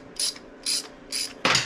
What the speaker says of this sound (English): So, we're gonna take out all these Allen screws. Takes a 3/16 Allen wrench.